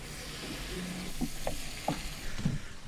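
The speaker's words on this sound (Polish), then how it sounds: "Smażcie przez 10 minut." Chicken breast in a pan gives a soft, steady sizzle of frying, with a few faint crackles and pops scattered over the few seconds.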